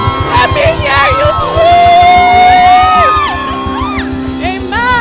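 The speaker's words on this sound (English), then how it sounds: "Young adults, let me hear you scream." A young-adult crowd at a church youth service screams and cheers loudly and continuously, with whoops and shouts over a steady pulsing music beat.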